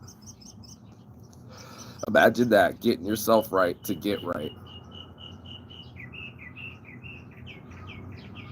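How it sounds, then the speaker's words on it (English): Birds chirp in the morning outdoors, high quick tweets continuing through and after a stretch of someone talking, the calls moderately near and clearer once the speech stops. "Thank you, Bird Chirp."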